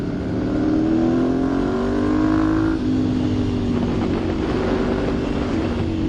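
A Ducati Monster 1100 Evo motorcycle pulls hard under acceleration, its engine note rising and shifting through gears over steady wind rush from riding, with no talking.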